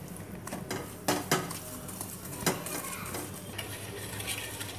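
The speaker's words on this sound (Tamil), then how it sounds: "சுகரை ஆட் பண்ணி நம்ம ஒரு கரண்டியை வச்சு மிக்ஸ் பண்ணிக்கிட்டே இருக்கலாம்." A metal spoon stirs sugar in hot oil in a pan while making homemade cocoa-powder chocolate, giving steady scraping and clinking with a few sharper knocks against the pan over a faint sizzle.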